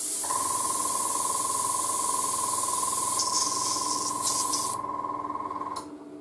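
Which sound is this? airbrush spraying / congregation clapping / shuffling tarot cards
airbrush spraying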